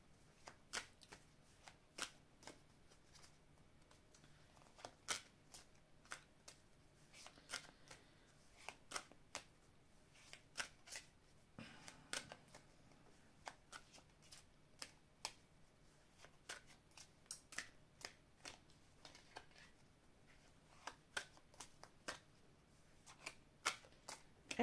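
A Lotus Eye oracle card deck shuffled by hand, giving a steady run of crisp riffling flicks and soft card slaps, quiet and close, with no talk.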